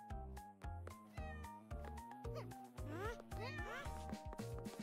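Video game, Celeste-style, with a rhythmic chiptune-like music track of bouncing tones and a repeated cartoon cat meow woven in, steady and moderately loud.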